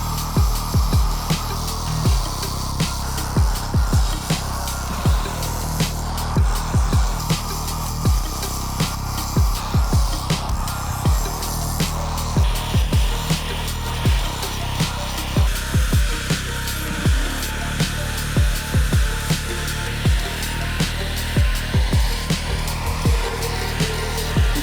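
A power tool fitted with a flush cut blade cuts into stone while carving a logo, giving a steady loud grinding whine with repeated short bursts and sharp clicks throughout, no talk.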